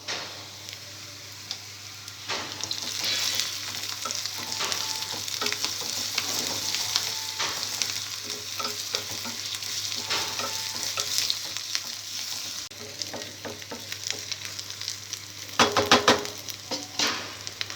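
Onions sizzle and fry in a pan with ginger garlic paste and turmeric while being stirred, a steady close hiss with scraping and tapping of a spoon throughout, a few sharper clatters near the end.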